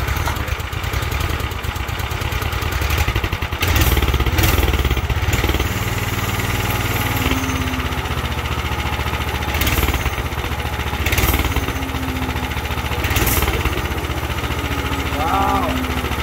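A Manco Dingo go-kart with a bigger engine idles with the choke on in a steady, chugging mid-pitched rumble, and people talk over it off and on.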